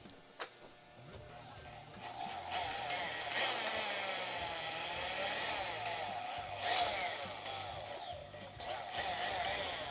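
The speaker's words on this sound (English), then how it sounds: "Basically just got a hand drill with a paint mixing bit on it to help heat this ink up." A hand drill fitted with a paint mixing bit whirs continuously as it stirs thick ink, a steady mid-level motor drone with slight swells in speed and no talking.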